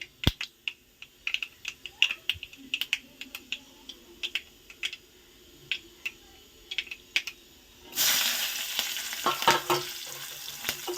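Chana dal and urad dal splutter in hot oil for tempering, sharp irregular pops and crackles close up, then a louder burst of sizzling as more is added near the end.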